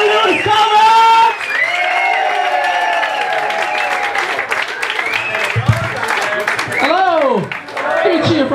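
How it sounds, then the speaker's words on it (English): Comedy club audience applauding and cheering for a stand-up comedian, loud sustained clapping with whoops and shouts throughout, swelling again near the end. "Start clapping for me one more time. Start cheering for me."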